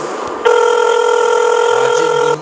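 A phone call is placed in a video game, a loud steady electronic dial or ring tone held for about two seconds after a brief click, close and alone.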